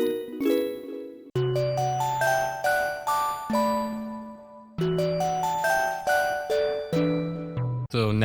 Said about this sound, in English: So now we have this really unique bell sound with this kind of laser texture.